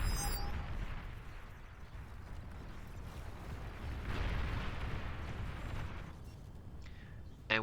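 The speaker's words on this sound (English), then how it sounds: "we did see these gremlins blow up a fusion reactor" A fusion reactor exploding in the strategy game Beyond All Reason, a low rumbling blast with a swell of roar midway, followed by faint battle noise and a brief crackle at the end.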